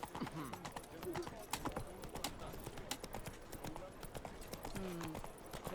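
Horse hooves pound steadily in The Witcher 3, a dense, rhythmic clip-clop running throughout over a busy game soundscape, with occasional voices.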